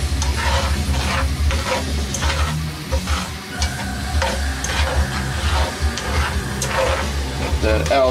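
Half a cup of dry white wine bubbles and sizzles in a pan of gorgonzola cream sauce for strozzapreti, a continuous close hiss with faint stirring and occasional speech.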